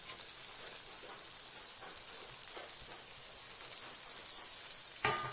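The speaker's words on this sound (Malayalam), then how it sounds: "ഇത്രയും ചേർത്ത് നല്ലതുപോലെ ഒന്ന് വഴറ്റിയെടുക്കാം." Garlic paste, ginger paste, green chillies and tomato sautéing in a hot pan give a steady, even sizzle that holds throughout, with a brief stirring clatter near the end and no voices.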